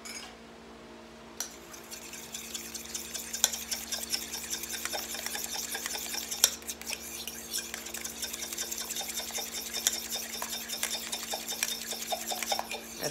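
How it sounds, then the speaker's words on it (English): Texas sheet cake batter of buttermilk, egg, baking soda and vanilla is stirred in a bowl, a steady scraping and clinking of utensil against the bowl over a constant background hum. "Now I'm going to stir this up together."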